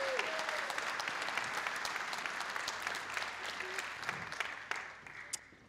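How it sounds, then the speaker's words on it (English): An audience applauds at a seventh-grade school band concert, a steady wash of clapping that slowly thins and fades toward the end. "All right, another round of applause for Jocelyn."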